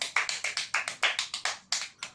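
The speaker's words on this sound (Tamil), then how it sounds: "சரியான விடை கரங்களை தட்டுவோம்." Audience clapping at a church quiz on the birth of Jesus: about a dozen sharp, evenly spaced hand claps in quick succession, fairly close and crisp, with no talking.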